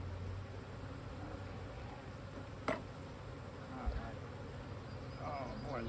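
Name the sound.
honeybees buzzing during hive inspection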